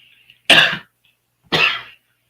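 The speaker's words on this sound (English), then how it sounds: "Sorry, I had to cough." Two separate loud coughs about a second apart, close to the mic, with no talking.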